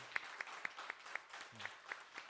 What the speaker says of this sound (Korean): 수정 자매도 잠깐 일어나시면 박수로 환영하겠습니다